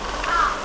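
A single loud, close crow caw, harsh and brief, in a foggy forest horror video game.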